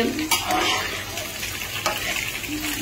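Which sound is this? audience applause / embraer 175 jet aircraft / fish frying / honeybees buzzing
fish frying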